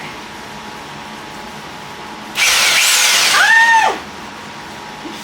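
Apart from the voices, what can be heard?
powerful electric drill running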